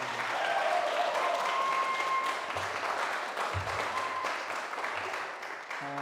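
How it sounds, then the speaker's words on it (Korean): A church congregation applauds loudly at a Sunday service, a sustained dense wash of clapping that fills the whole stretch and eases slightly near the end. "여러분 한번 큰 박수로 격려해 주시기 바랍니다"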